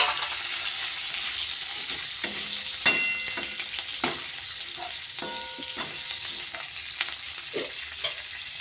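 Fried pointed gourd pieces sizzle in a spiced masala, a loud continuous frying hiss broken by scattered clinks and scrapes of stirring.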